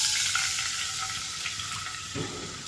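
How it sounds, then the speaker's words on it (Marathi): A glass of water poured into a pan with ghee for a semolina and banana halwa, a close steady gushing stream that fades slightly, then a brief sizzling burst near the end. "यात मी टाकते 1 ग्लास पाणी"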